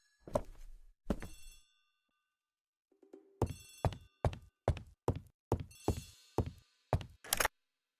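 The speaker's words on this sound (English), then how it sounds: "The telephone in the hall is ringing." An old-fashioned telephone bell rings in a hallway: two opening rings, a pause, then a rapid series of loud metallic bell strikes with sharp knocking clangs, heard alone without speech.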